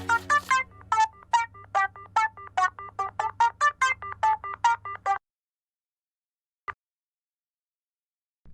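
A telephone rings after a call is placed to a house, the ring coming as a rapid series of bright electronic trill bursts in steady pulses for about five seconds, then silence and a single faint click.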